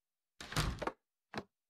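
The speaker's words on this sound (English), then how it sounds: "Door slams shut." In the horror game Marrow, a door slams shut with a heavy, sharp thunk that rattles briefly, followed by a second shorter knock-like bang, both close and loud against silence.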